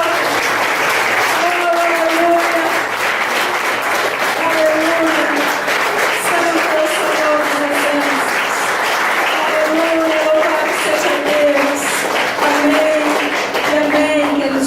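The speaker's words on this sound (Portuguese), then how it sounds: "Você pode aplaudir ao Senhor." Church congregation applauding steadily for the full stretch, a dense, loud wash of clapping with voices and sung or spoken tones carrying underneath.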